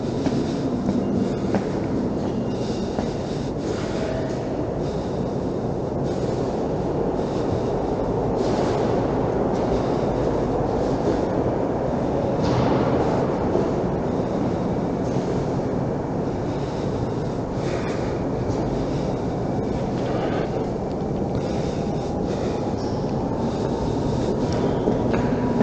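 Montreal metro train running through Olympic Stadium station, a loud, continuous rumble and roar with faint rhythmic clatter that holds steady throughout, with no talk.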